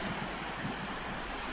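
Sea waves wash in on a shore as the tide comes in, a continuous broad rushing surf with wind noise, steady and unbroken, no voices.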